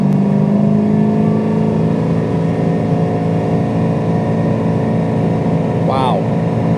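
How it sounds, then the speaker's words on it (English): A 1968 Camaro Rally Sport convertible cruising on the interstate while its engine accelerates, a steady, loud low drone mixed with wind and road noise, with a person talking over it. "I'll give it some gas and you can get a sense for how torquey the motor is"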